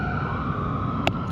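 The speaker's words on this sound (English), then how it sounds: "Sirens." A siren wails steadily in the distance under a constant outdoor rumble, with a brief sharp click near the end.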